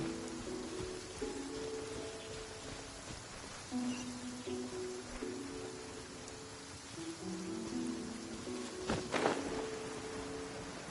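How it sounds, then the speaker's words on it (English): Steady rain falls in the Genshin Impact game world on PS5, a constant soft patter over a gentle melodic music line, with a brief sharper splash near the end. "மழை பெய்யுது"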